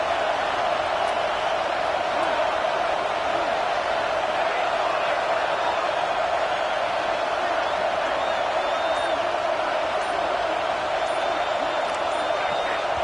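A huge football crowd at Autzen Stadium roars continuously, a dense, steady wall of cheering and noise with no breaks.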